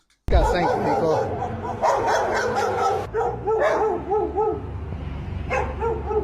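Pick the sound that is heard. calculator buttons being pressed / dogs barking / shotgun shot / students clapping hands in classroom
dogs barking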